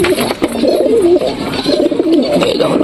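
Close, soft coos of a Lakka pigeon sitting on eggs repeat in low rolling phrases, one after another, over faint background noise.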